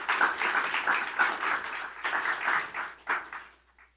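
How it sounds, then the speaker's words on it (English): An audience at a formal national e-commerce strategy event applauds continuously for a few seconds, a dense even clapping that fades out at the end. "Let's welcome with a round of applause"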